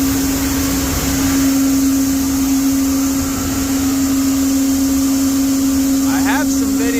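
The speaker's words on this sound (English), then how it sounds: "we've got both blowers hooked up and running" Two blower fans on a 2413 two-cup grain dryer drone loudly and continuously with a steady mechanical whine, the air rushing through the pipe, and brief speech near the end.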